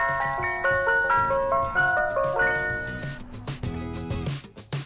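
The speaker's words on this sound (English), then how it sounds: "This is an ice cream truck." An ice cream truck's chiming melody plays a bright, tinkling tune loudly and continuously, with no talking.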